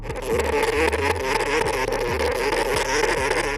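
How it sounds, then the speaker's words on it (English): A disturbed dormouse makes a loud, continuous rough whirring rumble, much like an idling car engine, holding steady throughout with a low pulsing throb beneath it. "When he tried to touch it, the animal started making a strange noise, quite like a car engine."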